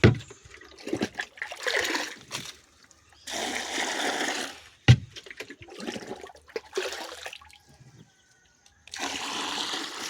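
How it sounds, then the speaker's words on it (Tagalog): Water being fetched from a cold spring: intermittent bursts of pouring and splashing, separated by short quiet gaps. "Dito tayo kukuha ng tubig."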